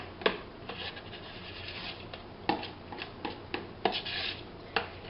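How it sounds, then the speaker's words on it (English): A utensil scrapes butter out of a container in short, close, rasping strokes with a few sharper scratches, quiet and without talk. "we scrape the butter so that we get all of it"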